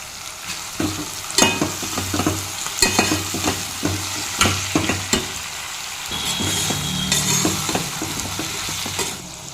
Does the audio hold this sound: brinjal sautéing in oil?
yes